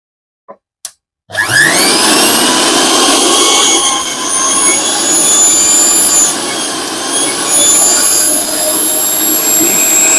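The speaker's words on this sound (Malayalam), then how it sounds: "ഇതിപ്പോ 900 വാട്സ് ഇല്ലേനെ ഞാൻ ഓണാക്കി കാണിക്കാം" A 900-watt mixer grinder switches on after a couple of faint clicks, then roars at a steady, loud high-pitched whine that holds for the rest of the clip, close by.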